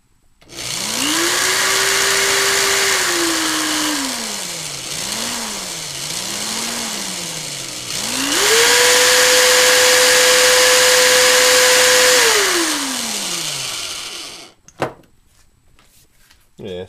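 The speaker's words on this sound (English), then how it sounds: "electric drill here just because, you know, consistent spin action." An electric drill drives a small motor in bursts, its whine rising in pitch, holding steady, then winding down twice, with short wobbling pulses in between, loud and close before cutting off sharply.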